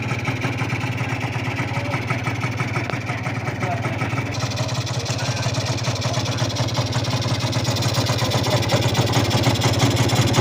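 A Yamaha TZR150 two-stroke motorcycle engine idles steadily up close, a loud, continuous buzzing rumble with little change in pitch, as someone talks over it.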